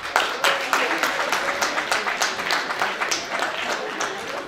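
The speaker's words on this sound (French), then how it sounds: "Ce lycée-là mérite vraiment l'applaudissement." Audience in a vocational high school in Cavaillon applauding during a jazz history concert, a steady patter of many hands clapping at moderate volume that fades gradually, with no one speaking over it.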